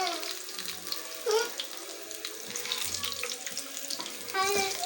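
Kitchen tap water running steadily with splashing against greens and a sink while washing them for traditional mixed saag, a close hiss with brief faint voices and small clinks beneath.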